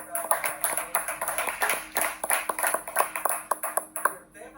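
A church congregation claps for the Lord in a steady, even rhythm of sharp hand claps, with voices and a ringing tone mixed in underneath.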